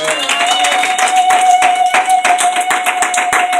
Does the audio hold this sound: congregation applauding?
yes